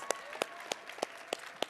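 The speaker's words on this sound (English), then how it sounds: "keep that applause going" An audience at a comedy workshop on stage claps for a volunteer coming up, heard as a series of distinct, evenly spaced sharp claps about every third of a second, fairly close and clear, with a faint tone in the background.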